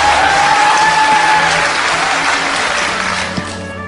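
A theatre audience claps loudly and densely, a crowd of hands that gradually thins and fades toward the end.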